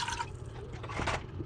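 A glass of vinegar is poured into a pan for mango pickles, making a short, close liquid splash and gurgle that trails off within a second.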